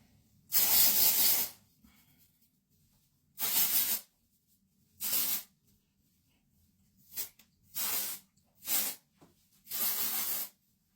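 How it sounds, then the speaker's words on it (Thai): A can of dry shampoo sprays onto the scalp at the oily roots of curly hair, producing seven sharp, close hissing bursts of varying length separated by silent pauses. "แค่เขย่าแบบนี้ แล้วก็สเปรย์ลงไปตรงที่หนังศีรษะตรงที่ผมมันมันๆนะคะ"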